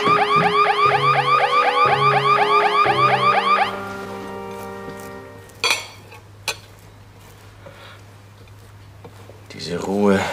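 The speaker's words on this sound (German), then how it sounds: "Die Alarmanlage, irgendwas hat sie ausgelöst." A triggered alarm system blares loud repeating warbling sweeps for several seconds, then cuts off, leaving a low hum, a couple of sharp knocks and a short burst of speech near the end.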